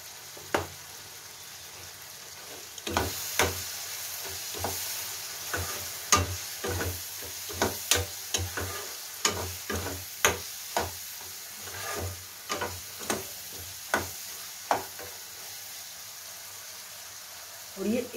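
Ground spices and gram flour fry and sizzle in a pan for a matar paneer gravy, with a spoon scraping and stirring in repeated rhythmic strokes over a constant hiss, close by.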